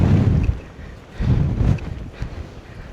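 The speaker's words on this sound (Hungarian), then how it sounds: "Ebben a jó nagy szélben." Strong wind off the northern sea at a Norwegian cape, with motorcycles parked nearby, gusting as a broad rumbling roar that swells and eases in waves, close and loud against the microphone, with no talk.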